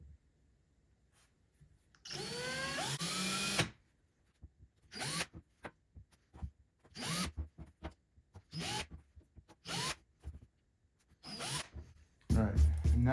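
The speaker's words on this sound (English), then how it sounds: "Let's drill out our pattern." Drill cutting a hole pattern for a fuel sender on a vintage Willys Jeep tank, heard as a string of short, close whirring bursts of varying length separated by pauses and handling clatter.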